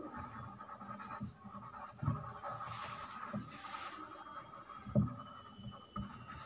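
A pen scratches across paper while a maths problem is worked out by hand. The strokes come quiet and close, in short intermittent bursts, with a few soft thumps and rustles between them.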